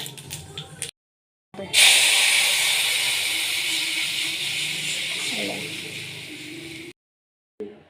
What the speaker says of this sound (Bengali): এই দেখো কালো জিরে আর মৌরি ফোড়ন দেবে